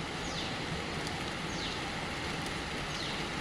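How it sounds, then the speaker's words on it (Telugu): Heavy rain pours down in a garden, a dense, even wash of hiss that stays constant from start to finish. "చాలా రెయిన్ వస్తుంది"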